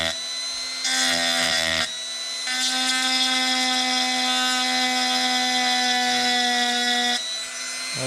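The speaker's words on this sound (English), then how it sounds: "off the rivets for the name plate so we can do a proper restoration. Just using a small Dremel tool." A small Dremel rotary tool grinds the name plate rivets off an antique 1930s Beverly shear, producing a loud, steady high-pitched whine close by. The whine dips briefly as the tool eases off, then resumes.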